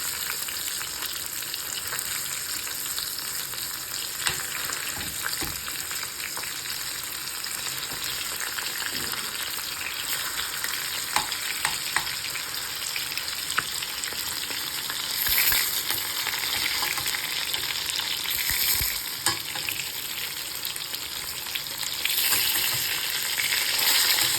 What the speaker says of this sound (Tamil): இப்போ மீன் வந்து ஒரு சைடு நல்லா வெந்துருச்சு ஸோ இப்போ இன்னொரு சைடு நம்ம பருத்து விடலாம்